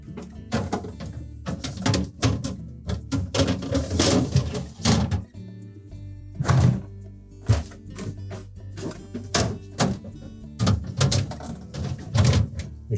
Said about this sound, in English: We'll reinstall our drawers.